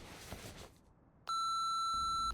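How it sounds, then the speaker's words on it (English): An answering machine beep sounds after a short stretch of quiet: one loud, steady electronic tone holding for about a second, ending abruptly. "Please leave a message at the sound of the beep."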